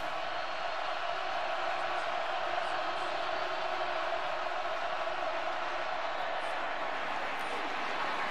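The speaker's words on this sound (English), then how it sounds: "Listen to this crowd on third down." A college football stadium crowd roars on third down at a Baylor at Kansas State game, a sustained, distant wall of cheering and noise that holds steady throughout.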